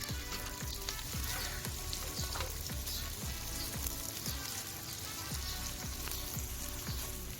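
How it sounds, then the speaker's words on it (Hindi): Finely sliced onions frying in a pan for mutton curry give a loud, continuous crackling sizzle, punctuated by regular soft knocks of stirring throughout. "ये प्याज डाल दीजिए, जिसको फाइनली स्लाइस किया था।"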